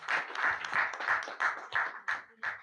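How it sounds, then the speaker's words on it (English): Applause from an audience at the close of a keynote talk, a rhythmic run of about eight claps that swell and fade, fairly close and without voices. "Please keep the round of applause going"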